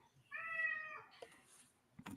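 A cat meows once in a drawn-out, harmonic call lasting under a second, fairly close and clear, followed by faint rustling and a brief clatter.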